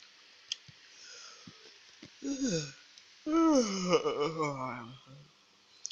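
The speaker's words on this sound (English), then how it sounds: "Sorry about me like yawning" A person yawns out loud, a drawn-out rising and falling vocal moan after a few soft clicks and breaths, close and fairly quiet.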